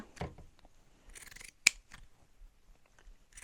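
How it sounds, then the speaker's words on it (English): Shear scissors trimming the stitched outer edge of sewn fabric for a scrunchie wristlet, a few close, crisp snips and rustling cuts, one sharp clip standing out clearly in a quiet room. "I'm using this shear scissors so that it's not gonna be frailing"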